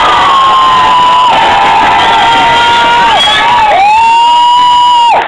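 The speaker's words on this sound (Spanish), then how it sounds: "Aplausos por el príncipe de Egipto." Loud cheering erupts from a Halloween costume contest audience in Duitama, Boyacá, dominated by long, piercing children's screams and whoops that rise and dip together over a few seconds before cutting off.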